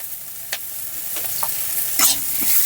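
Onions frying in oil in a kadai with a little salt, crackling and sizzling steadily while a spatula stirs and scrapes through them in a few short strokes, close and alone.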